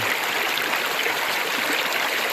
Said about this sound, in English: I just got the sluice going.